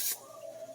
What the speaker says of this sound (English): Spray butter.